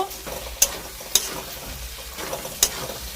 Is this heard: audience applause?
no